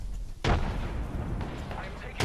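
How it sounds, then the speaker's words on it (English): Gunfire in the Apex Legends video game, two heavy booming shots with a dense crackling rumble between them, loud and close, while a player talks over it. "I'm taking fire."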